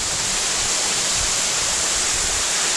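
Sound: waterfall

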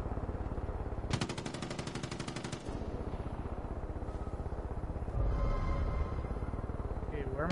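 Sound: gunfire from a sniper in video game Far Cry 5

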